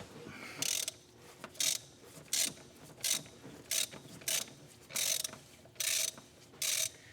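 A ratchet with a 32mm socket loosens the oil filter housing on a Ferrari, sounding as short bursts of rapid clicking repeated about nine times in a steady rhythm, close and clear with no talking.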